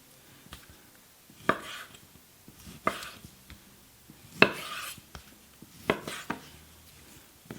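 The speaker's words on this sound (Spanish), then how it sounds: "Ahora vamos a partir la carne." A knife cuts pork loin into small cubes on a board, with several separate thuds and scrapes spaced unevenly amid quiet handling noise.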